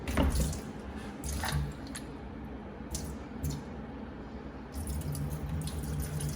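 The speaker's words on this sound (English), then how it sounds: "Now I need to get the water off my beans." Water drips and squishes as mung beans are drained after being sprayed, with soft wet trickles and a few sharper drops close by, fading briefly before resuming.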